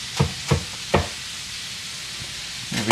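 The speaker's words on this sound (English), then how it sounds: "Oh, you can hear the sizzle in that one too." Chicken dropped into a hot pan for a low FODMAP, gluten-free matzo ball soup, giving a few sharp sizzling bursts that settle into a quieter crackle before flaring up again, with no talking.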